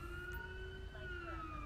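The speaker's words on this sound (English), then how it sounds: "Sarah, you can turn the siren off" A police car siren in GTA 5 wails steadily and loudly the whole time, its rising and falling tone held over a low rumble of engine and road noise.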